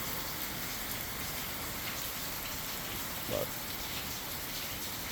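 Steady rain falling outdoors, an even close hiss of drops on surfaces lasting throughout, with one brief faint knock partway through and no speech.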